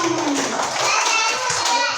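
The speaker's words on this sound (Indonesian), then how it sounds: "tepuk tangan untuk kelompok Syahadu." Children in a class clap for a presenting group, a short burst of quick hand claps close by, with kids' voices chattering over it.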